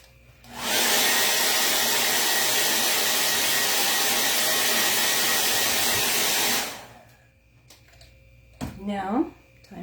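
A hair dryer runs steadily for about six seconds, close and loud, while drying chalk paint on a porch sign, then cuts off, followed by a short burst of sound and a voice speaking.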